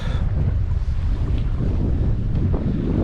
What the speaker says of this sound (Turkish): rüzgar yavaş yavaş çok şiddetini arttırmaya başladı